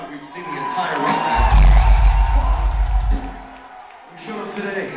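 Crowd at a metal concert cheering and whooping loudly, a dense roar that swells in the middle and then eases off, with shouts mixed in.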